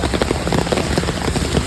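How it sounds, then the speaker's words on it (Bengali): Heavy monsoon rain pours down outside a house in Kolkata, a loud dense continuous roar of drops close by with no talk heard. "ঝমঝমিয়ে বৃষ্টি পড়ছে।"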